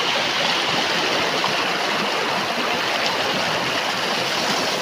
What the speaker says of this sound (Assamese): এয়া চাওক নদীর সাউন্ড